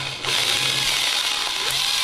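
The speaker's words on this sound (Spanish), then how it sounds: "Poco a poco vamos taladrando toda la placa" A power drill whines continuously as it bores holes in a circuit board made from recycled plastic, a loud steady high-pitched buzz, close and without talk.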